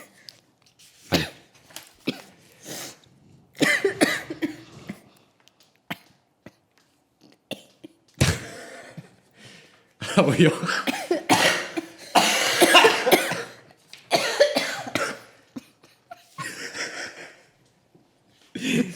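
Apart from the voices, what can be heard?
person coughing repeatedly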